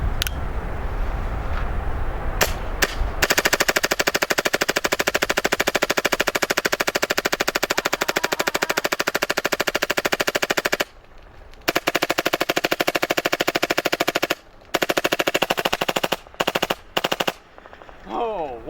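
A Tippmann A5 Phenom paintball marker fitted with a new hopper elbow fires long, rapid full-auto strings of sharp, loud pops, broken by short pauses and then a few final quick bursts outdoors.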